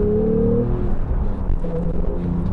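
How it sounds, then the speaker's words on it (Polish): Porsche 911 Carrera GTS (991.2) with manual gearbox revving hard toward 8000 rpm, a loud, close engine note climbing and holding at high revs. "auto kręci się do blisko 8000 obrotów"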